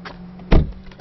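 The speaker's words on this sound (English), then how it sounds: "Close the door, you hear that thud." A single solid, heavy thud of a car door shutting, close by, standing out against a faint steady background hum.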